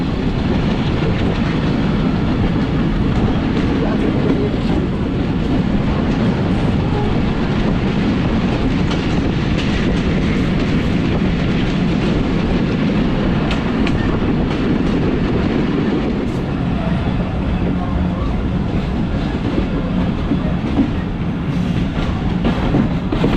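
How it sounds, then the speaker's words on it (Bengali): The Dhalarchar Express rolls into Kakonhat railway station, a loud, steady rumble of carriages with rhythmic clickety-clack of wheels over rail joints continuing unbroken throughout. "আমাদের ট্রেন প্রবেশ করছে কাকনহাট রেল স্টেশন।"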